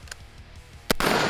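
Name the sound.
gunshot fired at a steel target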